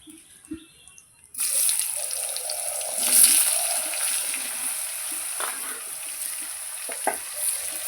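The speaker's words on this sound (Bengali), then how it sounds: "এবার দিয়ে দেবো লাউ, দিয়ে দিচ্ছি লাউটা" Chopped bottle gourd drops into a hot pan of whole cumin and a dried red chili tempering. After a quiet lead-in, a sudden loud, steady sizzle takes over, with stirring clatter through it.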